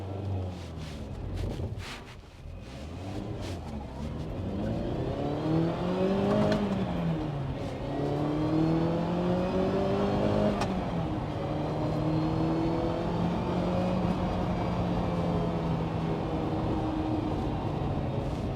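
Ferrari 308 GTB driving, its engine rising and falling through revs as it accelerates and shifts, a steady, fairly loud mechanical drone with wind noise and no talking.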